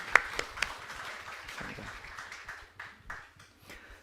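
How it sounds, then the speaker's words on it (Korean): A church congregation claps to welcome a newcomer during a Sunday service, starting with a few sharp nearby claps and then thinning into softer, scattered applause that fades unevenly. "큰 박수로 환영하겠습니다"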